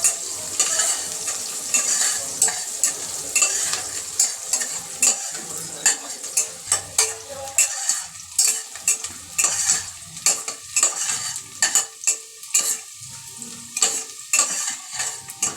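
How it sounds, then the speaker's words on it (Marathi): Chopped onion fries in hot oil seasoned with asafoetida for a rustic mutton curry, sizzling steadily while a spoon stirs and scrapes the pan in a quick, regular rhythm, close up. "फोडणीचा कांदा पण चांगला परतून घ्यायचा आहे।"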